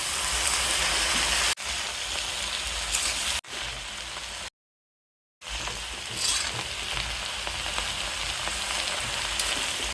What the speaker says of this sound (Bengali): ভালো করে মশলাটি ভেজে নিব এখন দিয়ে দিব কচু